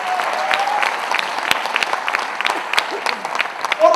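An audience at a Forever Living success day event in Mohali bursts into applause, a dense patter of clapping with sharp individual claps and some voices in the crowd.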